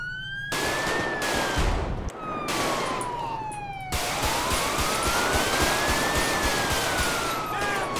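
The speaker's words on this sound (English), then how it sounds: "Shots fired, dispatch! Shots fired! Shots fired!" Gunshots during an LSPDFR police patrol game scene, rapid bursts of gunfire over a loud wailing police siren that rises and falls continuously, with dense crackling noise filling the scene.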